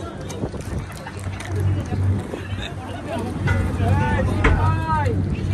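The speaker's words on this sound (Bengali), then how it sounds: "ওটা গান বোট চলে গেল।" A gunboat passes on the water near a fishing area, its low steady engine drone rising slightly as it goes by, while people talk close by over the rumble.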